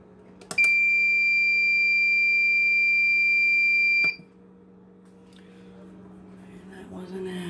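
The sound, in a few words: loud beeping from quail egg incubator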